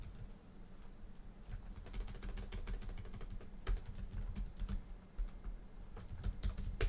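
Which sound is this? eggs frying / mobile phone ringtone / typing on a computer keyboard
typing on a computer keyboard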